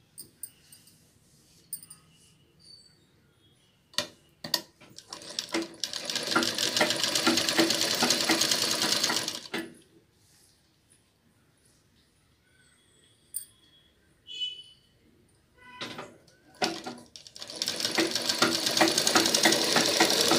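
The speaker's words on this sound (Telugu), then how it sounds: "ఇప్పుడు ఇలా వేసేసుకొని కుట్టుకుందాం।" Sewing machine stitching the shoulder of a blouse runs in two long steady bursts with a pause between them, with brief clicks and handling sounds in the quieter gap.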